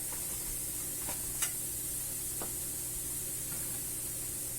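Red chili and turmeric powder sizzle in a pan of cooked onion for dhaba style paneer butter masala, a steady close hiss with a few faint clinks of stirring.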